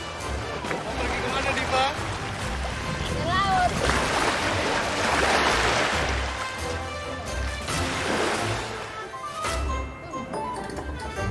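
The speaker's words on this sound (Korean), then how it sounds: "육지에서 100m 이내로 배를 타고 나가 그물을 칩니다." A small fishing boat heads out onto the sea off East Timor at night to cast nets, with water splashing and sloshing against the hull and a low engine or rowing rumble while people talk throughout.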